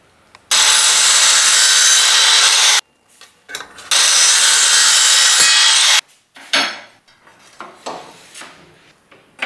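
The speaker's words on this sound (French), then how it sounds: "Découpe en onglets à l'aide d'une scie à rabattre." A flush-cut saw cuts a mitre through a trim profile during kitchen backsplash panel installation, with two long, loud, steady rasping strokes close by, then shorter scrapes and handling noises.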